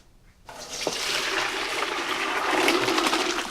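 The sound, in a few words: water poured off boiled potatoes to drain them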